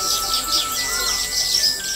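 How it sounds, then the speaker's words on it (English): Caged pet birds kept by city dwellers in China chirp and tweet in quick, repeated high calls, fairly close and clear over a steady background hum. "Their chirping reminds homesick urban workers of their more peaceful country lives."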